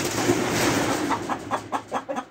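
Rooster in a farmyard coop with other poultry, giving a run of short, fairly close clucking calls in a rhythmic series over steady background noise.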